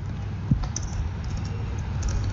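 A few light keystrokes on a computer keyboard while entering login details for Windows proxy settings, sparse clicks heard close over a low background hum.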